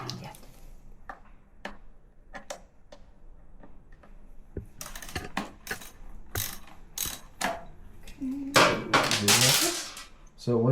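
A ratchet works a bolt loose on the exhaust of a Ducati Panigale V2 motorcycle while a slip-on is fitted, giving sparse clicks that build into quick ratcheting bursts, close up, with people talking nearby.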